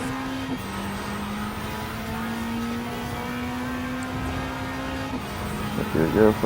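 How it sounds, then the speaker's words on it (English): Lancia Delta HF Integrale Evoluzione 1991 inline-four in a racing video game, a steady droning engine note held at constant pitch with a brief shift near the start and again later, accompanied by faint talk. "I love the engine noise too, because this thing romps. For inline 4, this thing romps."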